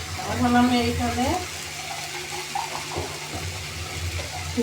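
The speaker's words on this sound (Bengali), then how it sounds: "কিছু একটু পানি দিয়ে দিলাম" Water poured into a pan of cooking fish-head curry (muro ghonto), a short splashing pour at the start that settles into a soft sizzle, with a voice speaking over it.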